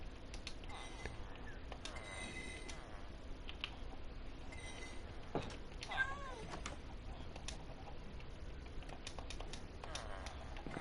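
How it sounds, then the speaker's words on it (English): A Minecraft cat's short game meows come through faintly amid clicky block and footstep game noises, with a few soft repeated calls midway. "Hi, cat. I love my cat."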